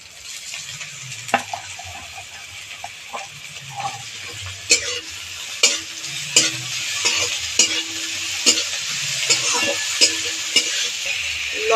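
Banana flower is stir-fried with onions in a pan. A spatula clacks and scrapes against the metal in a loose rhythm over a soft continuous sizzle, close by.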